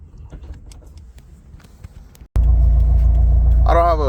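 A 2007 Subaru STI fitted with a Cobb short shifter, its engine starting up and settling into a loud, steady low rumble close by, with a brief squealing whine near the end.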